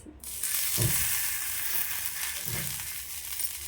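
Sweet corn vadas fry in a little oil on a pan with a constant hissing sizzle, plus a couple of low, muffled bumps.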